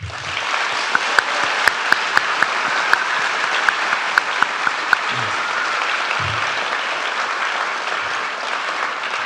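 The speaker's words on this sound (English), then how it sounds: "please give a round of applause to our instructors" A seated audience at a fire and EMS graduation ceremony applauds its instructors, a sustained, even roar of many hands lasting the whole stretch, with a few sharper individual claps standing out near the front.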